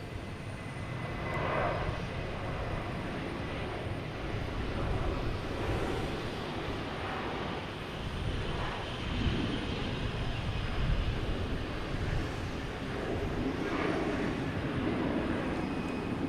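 A jet airplane takes off at Boston Logan Airport, its engine roar a broad, sustained rumble heard from a distance, holding fairly steady with slow swells throughout.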